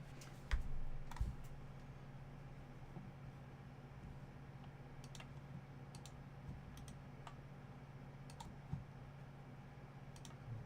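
Quiet computer keyboard typing, soft irregular key clicks tapping away steadily over a low hum, with a few sharper clacks.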